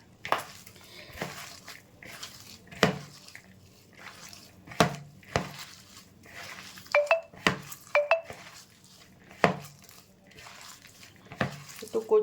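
Chopped large onions squished and mixed by hand in a bowl, giving soft wet squelching and slapping sounds in an irregular rhythm, with a few light clinks from dishes, close and moderately quiet.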